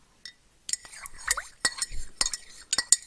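A spoon stirs and clinks against a cup in a quiet room. A string of sharp, bright metallic taps comes in irregular bursts, with soft scraping between them.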